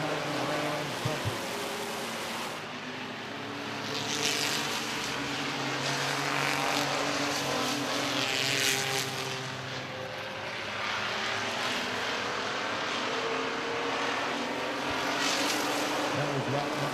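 Race cars circle the oval at Midvale Speedway, a continuous roar of engines that swells and fades as the pack passes, with a race announcer talking over the noise throughout.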